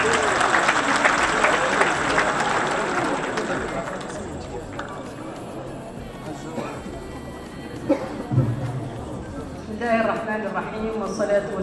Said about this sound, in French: Je vous demande d'applaudir Madame Fatimatou Abdelmalik.